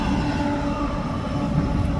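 A freight train rolls past at Fostoria, Ohio, a loud, close, continuous rumble of wheels and cars with a heavy low drone throughout.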